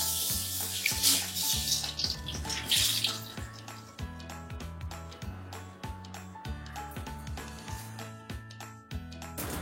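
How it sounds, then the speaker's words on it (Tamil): A wet cloth is wrung out over a new earthen pot of drinking water, water splashing and trickling loudly at first, then thinner drips under steady rhythmic background music. "ஒரு துணியை நல்லா புழிஞ்சு"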